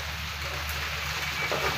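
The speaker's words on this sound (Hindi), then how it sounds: "ये देख सकते हैं बारिश हो रही है लाहौर में" Rain falling in Lahore, a steady, close hiss of drops on surfaces with a faint low hum beneath, short and continuous, no speech.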